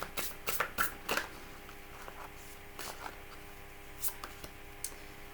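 Playing cards being shuffled during a tarot-style card reading, a quiet run of soft riffling bursts and light clicks spaced over several seconds, close and faint with no speech.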